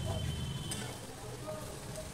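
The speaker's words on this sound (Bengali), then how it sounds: "তেলটা মিডিয়াম গরম হয়েছে, তখনই আমি আলুর এই বড়া বা কোপ্তা যাই বলো না কেন দিয়ে দিয়েছি" Potato fritters (kofta) frying in medium-hot oil in a wok give a soft, steady sizzle with faint stirring, fairly quiet and continuous.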